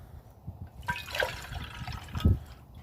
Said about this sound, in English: we're gonna just put some water in here